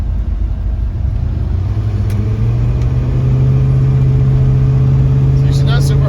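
A farm truck's engine pulls through a corner, a steady low rumble that rises into a louder, climbing acceleration tone partway through and holds close and strong to the end.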